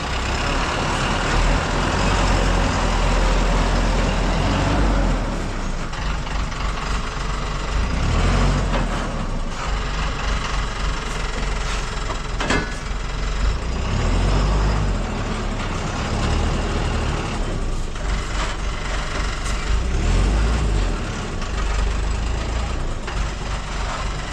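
A loaded Eicher or Leyland tipper truck carrying a 200-foot load drives toward a site, its engine rumbling steadily and loud throughout with road noise and occasional hiss-like bursts.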